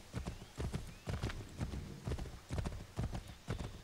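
A horse gallops in the video game Assassin's Creed 3, with strong rhythmic hoofbeats repeating in quick clusters across the clip and no voices over them.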